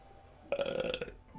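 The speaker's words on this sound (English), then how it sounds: "Burp." A single close, loud belch lasting about half a second, breaking out of a quiet background during a casual drunken music stream.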